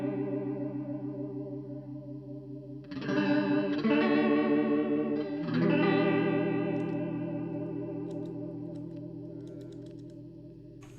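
An electric guitar runs through a Valeton Coral Mod chorus pedal set with mix and rate all the way up and depth all the way down, giving a shimmering, warbling tone; sustained chords ring out and slowly fade, with no talking.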